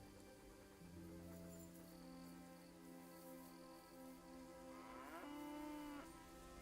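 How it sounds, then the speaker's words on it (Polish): A cow in the video game Kingdom Come: Deliverance moos in a long, drawn-out call over steady game music, followed by a second lowing moo near the end. "Krowa?"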